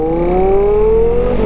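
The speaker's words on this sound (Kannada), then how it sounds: "ಇನ್ಲೈನ್ 4 ಸೌಂಡ್ ನೋಡಿ" An inline-four superbike engine revs up close, a loud steady rising whine that holds for a second and a half with no other sound.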